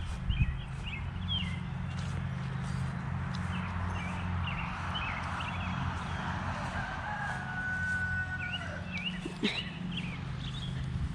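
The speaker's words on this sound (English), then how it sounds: "Honey Boo Boo's a crowing" A rooster crows faintly and at some distance on a farm, over a steady low outdoor rumble and a few softer bird calls, with no talking.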